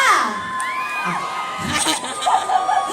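A crowd at a shopping mall in Hat Yai, Thailand shrieks and cheers with high-pitched screams and whoops, fairly loud and close, with a voice talking briefly amid the noise.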